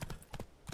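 The horse Roach's hooves clip-clop in The Witcher 3, a quick run of a few close, soft hoof beats.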